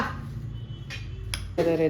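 Metal cooking pots and utensils clatter in a home kitchen, a few sharp clinks and knocks spaced unevenly over soft background noise, with a voice speaking.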